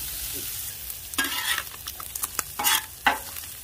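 Mixed meats fry on a well-seasoned griddle with a steady low sizzle, broken by several bursts of louder hissing and scraping as a spatula turns the pieces.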